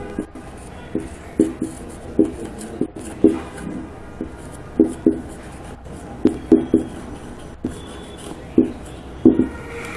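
Pen scratching on paper during a law class, in short repeated bursts of strokes with brief pauses between them, close and fairly quiet, with no talking.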